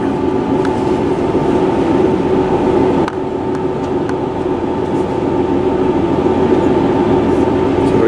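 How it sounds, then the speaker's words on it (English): A train crosses a big viaduct approaching Accrington station at slow speed. Its steady, loud rumble and hum continue throughout, heard from on board. "approaching Accrington over the big viaduct just east of the station"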